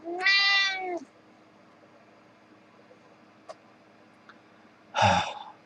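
A cat gives two meows, the first a long drawn-out cry at the start and the second a shorter, loud call near the end, with a quiet pause between them.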